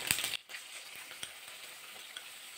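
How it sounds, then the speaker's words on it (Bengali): Spice paste mixed with yogurt frying in oil for sada alur dom, a soft, steady sizzle with light clicks from stirring after an initial louder burst. "মশলা ভালো করে কষিয়ে নিতে হবে।"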